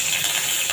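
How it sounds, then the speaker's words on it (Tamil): Curry leaves dropped into hot oil for a spicy kara chutney, crackling in a brief, bright sizzling hiss heard close and alone. "கருவேப்பிலை போட்டுக்கோங்க"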